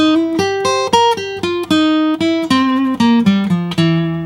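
Slow, clean guitar arpeggio of a blues lick over a single dominant seventh chord, one plucked note at a time in a steady rhythm, each ringing briefly before the next.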